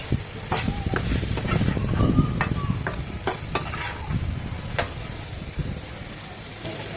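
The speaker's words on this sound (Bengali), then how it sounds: "মশলার সাথে নেড়ে চেড়ে ভালোভাবে মিশিয়ে জালিগুলো কষিয়ে নেব 3 থেকে 4 মিনিট" Young ash gourd being stir-fried with masala in a pan, a steady sizzle under repeated scraping and stirring strokes of a spatula, close and fairly loud, with no talking.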